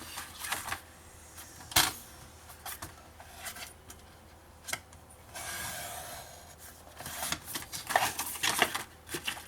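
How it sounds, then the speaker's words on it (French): Paper being cut for a scrapbooking box, with scattered short rasping snips and scraping strokes up close, uneven bursts of cutting separated by brief pauses. "Alors, vous allez couper ce morceau."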